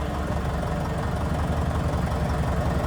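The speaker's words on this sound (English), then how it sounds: "just have the engine running" A diesel-type tractor engine on an MK40 with front loader runs at a steady idle, a continuous low rumble with a faint knocking pulse, close and constant.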